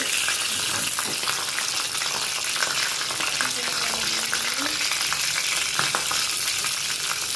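Raisins and cashews frying in ghee for milk vermicelli kheer, a steady close sizzle with faint stirring, continuous and fairly loud throughout with no talking.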